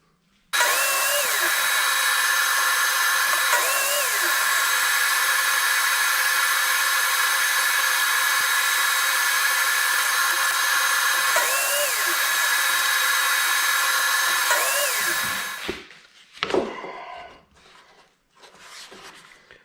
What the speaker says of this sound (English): we'll just find a little piece of wood and we'll cut that out on the saw